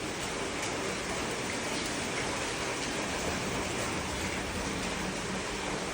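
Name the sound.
heavy rainfall with wind in Bali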